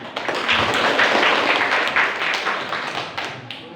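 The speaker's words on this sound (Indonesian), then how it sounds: "Ya, bagus tepuk tangan." A class of students applauds together in a room, a dense stretch of steady clapping that holds fairly loud throughout and tapers slightly at the end, with no speech over it.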